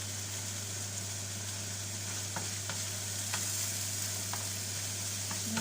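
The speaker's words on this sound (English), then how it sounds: "give it a really nice stir" Gentle sizzling of okra curry frying in a pan, with soft scraping as it is stirred with a wooden spoon, occasional light clicks over a low steady hum.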